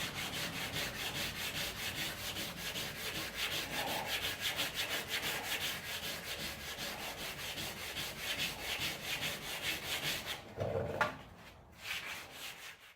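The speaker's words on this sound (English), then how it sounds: "So now it's just a matter of sanding off all the excess" Excess fiberglass resin sanded off a repaired truck canopy by hand, a loud continuous rhythmic scraping with rapid back-and-forth strokes that stops abruptly near the end, followed by a brief knock and quieter rubbing.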